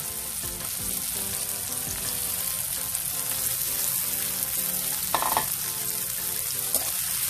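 Bitter gourd sautéing in a pan with tomatoes, garlic and onion crackles in a constant dense frying hiss, with occasional stirring scrapes over a steady, close sizzle.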